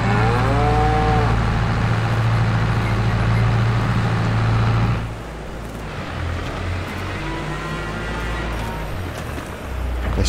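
Cattle low in the Farming Simulator 22 game on a farm: one long, loud moo holds for several seconds, then fainter moos follow over a steady background hum.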